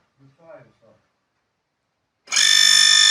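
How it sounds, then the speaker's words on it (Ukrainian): A deep well pump is switched on after a short spoken phrase and silence, then runs steadily with a loud, even high-pitched whine and hum that continues to the end. "Зараз включимо насос."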